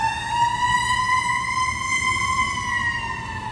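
A siren wails steadily outside on a street in Richmond, a loud, sustained multi-tone howl that holds its pitch for several seconds with no voices over it.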